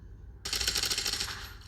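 Gunfire in the mobile game The Division Resurgence, a rapid burst of automatic shots that starts abruptly after a quiet moment and keeps going loud and close.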